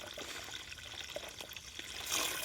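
Six litres of water pour steadily into jeevamrutha, a farm-made organic fertilizer, with a soft, continuous splashing wash that swells slightly louder near the end; no voices.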